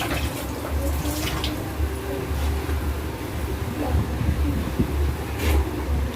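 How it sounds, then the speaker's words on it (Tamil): Steady bubbling and hissing of water boiling in a pot, a continuous churning roil at close range with no voices. "இப்போ நல்லா கொதிக்குது"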